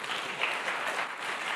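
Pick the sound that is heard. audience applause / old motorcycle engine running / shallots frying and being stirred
audience applause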